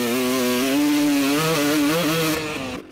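A two-stroke motocross bike engine revs hard at close range, a loud continuous wail whose pitch climbs and dips, then tails off slightly near the end.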